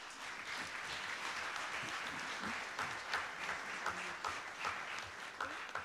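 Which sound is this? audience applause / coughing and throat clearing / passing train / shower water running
audience applause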